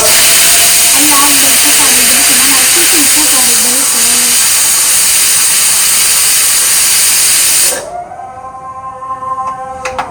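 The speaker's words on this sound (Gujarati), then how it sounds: "કુકરની સીટી બે હારે પુકારાઈ ગયું" A loud, continuous steamy whistle from a pressure cooker boiling potatoes blasts for several seconds, then cuts off abruptly, leaving a distant call to prayer.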